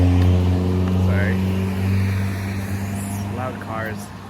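Loud cars roll past on a city street, a steady droning engine hum with rising and falling swells of passing traffic, close and continuous, while a person talks over it.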